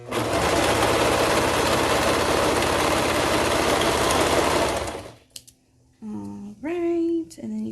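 Sewing machine stitching the side seam of knotted overalls, a loud continuous close motor buzz for about five seconds that then stops, followed by brief handling noises and a voice speaking.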